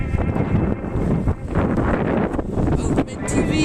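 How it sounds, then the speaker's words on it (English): Strong outdoor wind buffets the microphone in a loud, continuous roar with gusty swells, while voices talk over it. "The wind's fantastic."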